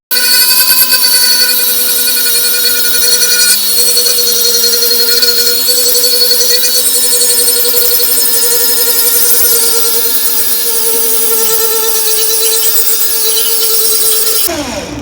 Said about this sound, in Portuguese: então vou começar a lixar.